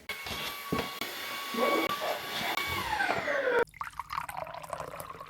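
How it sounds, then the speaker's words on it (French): Vacuum cleaner running close by in a home garden setting, a loud steady whine with shifting pitch as the nozzle moves, then an abrupt drop to a quieter, watery sucking sound. "On va aspirer."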